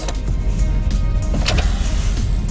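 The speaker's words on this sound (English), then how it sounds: "Let's go ahead and tighten this bolt." A bolt on a RAM truck's running board bracket being tightened, a loud close whirring tool buzz with brief ratcheting bursts over about two and a half seconds.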